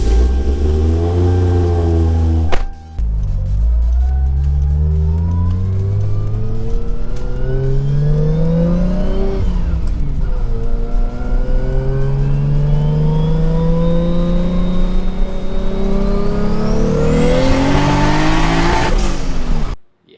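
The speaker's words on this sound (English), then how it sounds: "let's go ahead and turn on the car and take it for a quick test drive" A Toyota MK4 Supra with an R154 gearbox and a cube short shifter starts and is driven hard. The loud engine revs up through several gears, pitch climbing and dropping at each shift, with a final high rev before the sound cuts off.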